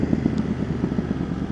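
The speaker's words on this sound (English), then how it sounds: "Oh man, this exhaust is so good." A 2024 CFMOTO 800NK Sport motorcycle running on its stock exhaust gives a steady, close, low rumbling drone with a pulsing throb that holds through the whole short stretch.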